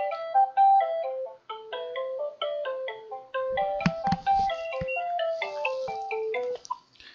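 A telephone ringtone plays a bright, repeating electronic melody, clear and fairly close, for several seconds with short gaps between phrases and no voices.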